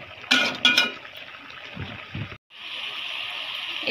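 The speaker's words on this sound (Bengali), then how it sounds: "এখানে আমি জলের পানি দিব এখন।" Water poured into a cooking pot of kacchi curry, a couple of splashy bursts and clinks at first, then a steady close pouring stream after a brief pause, with no talking.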